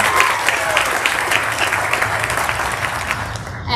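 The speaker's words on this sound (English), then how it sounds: "And a round of applause for Rebecca." A crowd claps at a 6th/7th grade end-of-year school ceremony, with a dense, even round of applause that holds steady and starts to fade near the end.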